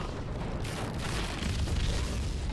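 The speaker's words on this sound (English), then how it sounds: "Oh, that was a sweet explosion." Film explosion from Pirates of the Caribbean: Dead Man's Chest, a loud, deep booming blast that rumbles continuously for a couple of seconds, with no voices.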